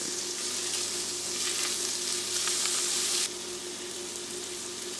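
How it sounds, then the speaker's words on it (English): Pork stir-frying in a hot pan with garlic, ginger and the white parts of green onion, a loud, steady sizzle running throughout, easing slightly partway through, with no voices. "you're going to add the garlic and the ginger and the white parts of the green onions and stir fry it for about a minute"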